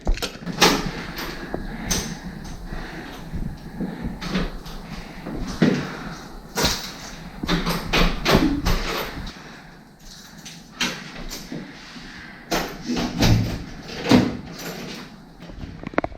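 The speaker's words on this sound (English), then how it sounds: "I don't know how to open these doors at all." Doors being worked open during travel, with repeated sharp knocks, rattles and sliding thumps scattered irregularly over background noise, fairly close.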